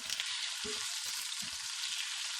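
Eggplant pieces frying in oil on a flat tawa, a continuous bright hiss of sizzling with a few soft low knocks and bumps scattered underneath.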